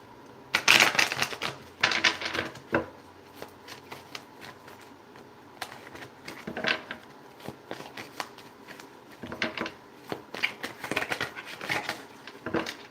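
Tarot cards shuffled by hand in irregular bursts of riffling and flicking, fairly close and moderately loud, with quieter pauses between the bursts.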